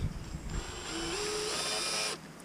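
A power drill boring out a stuck differential bushing on a car during a diff bush upgrade, one sustained whining run of about a second with a steady mechanical hum underneath, close and fairly loud, ending abruptly.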